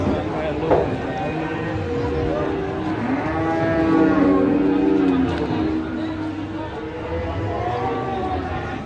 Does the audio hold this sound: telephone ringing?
no